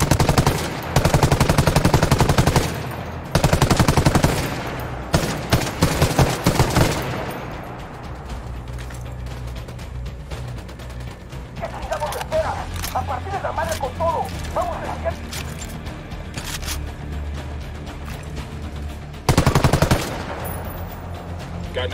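Automatic weapon fire in the tactical shooter Ghost Recon Wildlands crackles in loud, rapid bursts, heavy at the start and again near the end, with quieter game ambience and voices between.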